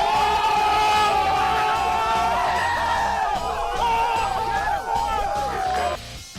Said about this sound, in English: Screaming crowd, please!